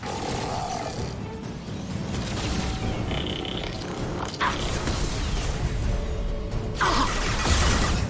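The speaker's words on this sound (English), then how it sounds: "Damn, that explosion helped." Explosions and combat roar through a Mass Effect 2 firefight, loud and dense, with sharp bursts near the middle and end over a constant rumbling battle bed.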